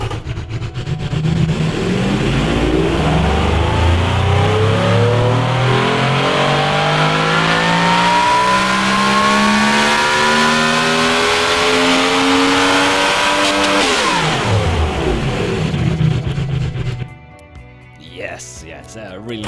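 A naturally aspirated V16 engine in a video game revving up through rising pitch for several long seconds, loud and sustained, then dropping sharply and cutting to near silence.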